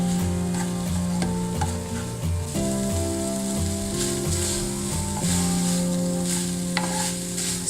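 Chicken mince with salt, chili flakes, ground coriander and black and white pepper stirs and fries steadily in a pan, a continuous sizzle with scraping under a constant tonal hum.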